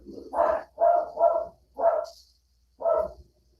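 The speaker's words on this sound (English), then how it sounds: "I don't know if y'all can hear my dog is barking." A dog barks five times in a row in a quiet indoor setting, the barks muffled and somewhat distant, with an irregular rhythm and short pauses between them.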